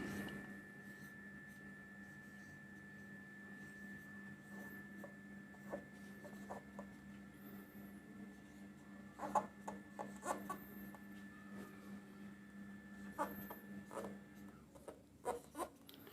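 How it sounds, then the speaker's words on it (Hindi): Chalk or marker writing a set on a classroom board: faint, irregular tapping and scratching strokes at close range over a steady low hum, with no talking. "इसमें मैं लिख रहा हूं"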